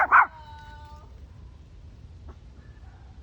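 A small dog in a wooded ravine park gives one sharp, close yip at the start, then goes quiet except for a brief faint whimper later, over low rumbling background noise.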